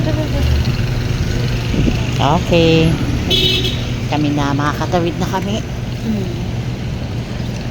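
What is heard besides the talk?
busy road traffic, many cars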